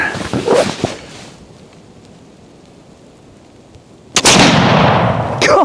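A single heavy black powder gunshot loaded with 120 grains of 2F powder fires indoors, a loud close blast with a rough, lingering tail, preceded by brief handling noises and a quiet pause.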